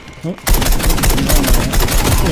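Rapid automatic gunfire in the Call of Duty Mobile shooter game, a dense loud burst of close shots that starts abruptly after a brief quiet moment and continues without pause.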